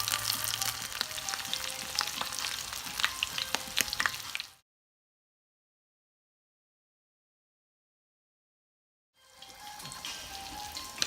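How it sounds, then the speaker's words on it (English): Coconut shrimp frying in hot grease in a fryer, a steady crackling sizzle with sharp pops, broken by a stretch of total silence before the bubbling resumes. "Take it right over here to the"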